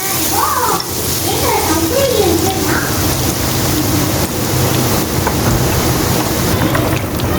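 A potato tikki burger patty frying in hot oil, with a steady, dense sizzle throughout while someone talks over it.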